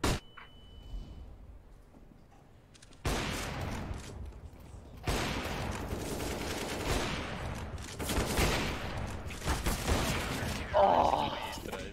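Gunfire in a shooter video game, bursts of rapid shots and clattering fire that swell and continue across the stretch, loud and dense, with players talking over it.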